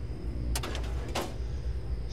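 In the video game Fallout 3, a filing cabinet opens with two short metallic sliding scrapes about half a second apart over a low steady background hum, with no talking.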